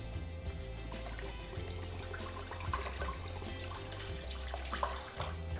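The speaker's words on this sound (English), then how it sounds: "So I'm just gonna pour the liquid straight into my Vitamix." Coconut water is poured straight into a Vitamix blender: a soft, continuous trickling splash with a low rumble beneath, fairly quiet and close, running unbroken throughout.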